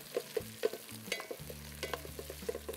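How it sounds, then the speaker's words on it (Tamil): Onions fry in a pan for malli murungai kozhambu: a quiet sizzle under light clinks and scraping stirs, with a low steady hum from a nearby appliance. "ஓகே, இந்த வெங்காயம் வறுபடட்டும்."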